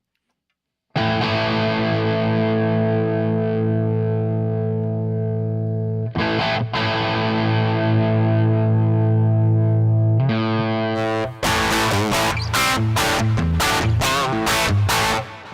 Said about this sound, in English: Especially with the high gain So amps, it is distortion, of course.